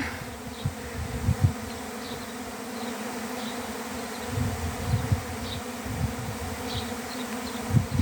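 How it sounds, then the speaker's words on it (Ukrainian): A honeybee swarm settles outdoors with a dense, continuous buzzing drone close by, as many bees hum steadily with occasional louder passes near the listener. "Сідає бджолина сімейка."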